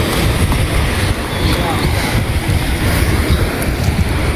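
Sea waves and wind on the beach at Bakkhali by the Bay of Bengal, a constant loud roar of surf and gusty wind buffeting the microphone, with no clear voices.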